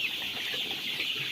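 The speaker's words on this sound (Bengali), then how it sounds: "এই যে সব মুরগি পিছে পিছে চলে আসছে" Hungry Sonali chickens on a farm cluck softly as they crowd in for feed, a quiet, continuous flock chatter with no speech.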